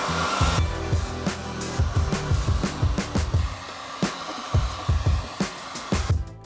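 A heat gun warms a crown wheel for fitting onto a Harrop centre. The blower makes a continuous whooshing hiss through the whole stretch, and repeated knocks and clunks of metal being handled sound over it.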